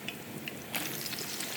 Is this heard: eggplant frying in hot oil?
yes